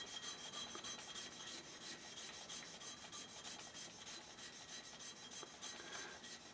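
A polishing stone scrapes back and forth in a W stroke across a diamond abrasive flat lapping plate, making a continuous rhythmic gritty rasping with regular strokes, close and fairly quiet.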